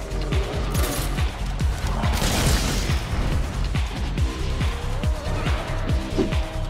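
The Dragon Piercer attack in Monster Hunter World, powered by slinger ammo: a loud, dense stream of rapid mechanical thuds and grinding impacts with booming bursts that swell and fade, and no voices.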